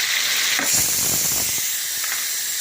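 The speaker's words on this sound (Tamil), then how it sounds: "இப்போ வெங்காயம் நல்லா வதங்கட்டும்." Onion and tomato sautéing in a pan give off a loud, steady, steamy hiss up close, with a few soft stirring bumps partway through and no voices.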